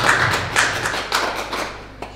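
Scattered hand claps from a small group greet guests at a post-match press conference for a MOL league women's handball game, several distinct claps in loose rhythm fading out over about two seconds.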